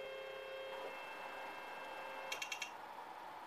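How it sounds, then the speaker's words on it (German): Zonestar 3D printer homing its axes to the endstops: a steady stepper-motor whine that changes pitch, then a quick run of four sharp ticking clicks near the end, close and moderately quiet. "Nach dem Fahren aller Achsen zu den Endschaltern folgt das Justieren des Druckbetts."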